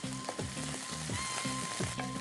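Boiled noodles frying in a hot pan, giving a steady close sizzle with rhythmic stirring scrapes roughly every half second, no talking.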